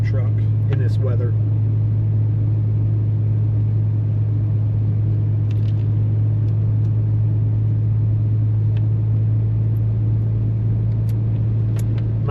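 A heavy 2500 diesel pickup truck weighing almost 10,000 pounds driving along a forest road, a loud steady low engine and road drone throughout, with a person talking over it.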